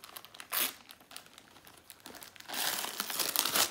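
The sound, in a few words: unwrapping a birthday parcel, paper crinkling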